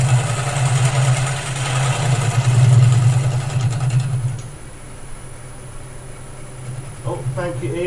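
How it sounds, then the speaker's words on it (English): Wood lathe spinning while a tool scrapes waste wood off the piece, a loud steady hum with a rough scraping texture that drops away midway, then quieter machine running with a voice briefly at the end. "I'm just using it like a scraper, and I'm just going to run it along. Take this waste wood out."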